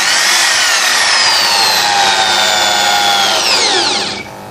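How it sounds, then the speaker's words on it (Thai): An electric drill mounted in a drill-to-grinder conversion stand runs at high speed with a loud, close, steady whine; its pitch sags and then drops sharply as it winds down near the end. "สำหรับสว่านตัวนี้นะครับเราไม่จำเป็นต้องมีดิมเมอร์ก็ได้นะเพราะตัวนี้มันสามารถปรับได้นะครับ"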